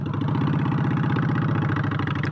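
A Honda Shadow Phantom motorcycle with a new straight pipe exhaust idles steadily nearby, a loud, even, rumbling pulse with a rhythmic low thump throughout.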